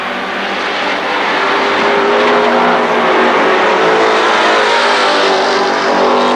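Race cars roar around the oval at Kil Kare Speedway during the Labor Day Championships, a loud, continuous engine drone with several cars bunched close together and no voices.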